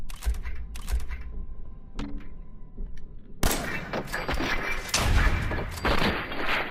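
Gunfire in the video game Fallout 4: a handful of sharp shots crack out in the first half, then a dense burst of rapid, loud firing and clatter fills the rest, with no talking.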